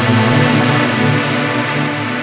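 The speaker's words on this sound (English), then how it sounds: "I will go to Pad Bright and then select the sound. You can preview those sounds too." A bright synth pad preset previewed on an Akai MPC One, a steady sustained chord with a rich, wide tone that holds evenly at a loud level for about two seconds, alone with no talking.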